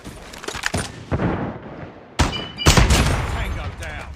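NA45 gun firing in Call of Duty Mobile, with heavy booming shots and explosive thuds in bursts, sharp impacts and rolling echoes over in-game combat noise.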